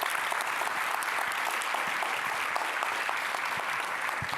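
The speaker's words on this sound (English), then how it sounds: "let's give you yourself a big applause for being part of this effort." A large audience at an opening ceremony applauds steadily and fairly loudly, a dense continuous wash of clapping with no speech over it.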